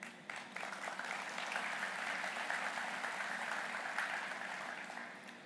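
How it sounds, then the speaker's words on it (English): A crowd applauds steadily and fairly softly at a city state-of-the-city address, the clapping sustained and even throughout, slightly distant. "You can clap on that."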